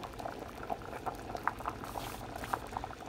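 Dal simmers at a steady boil in a pot, with continuous soft bubbling and small pops throughout, fairly quiet and with no talking.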